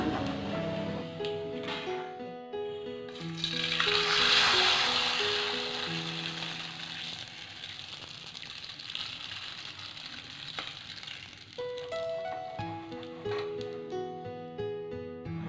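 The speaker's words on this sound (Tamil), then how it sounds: "அதை மீடியம் ஃப்ளேமில் வச்சு ஃப்ரை பண்ணி எடுத்துக்கோங்க" Sago papad fries in hot oil over a medium flame with a steady sizzle and crackle that swells briefly, while background music plays throughout.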